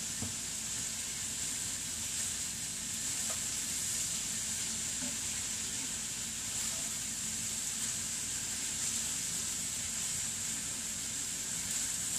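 Greens sizzle steadily in a hot pan as they are stirred and wilted, a constant hissing fry with faint clinks of the utensil now and then, no talking.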